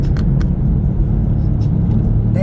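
A car engine rumbles steadily close by, a dense low drone that holds throughout with faint higher clicks and noises over it.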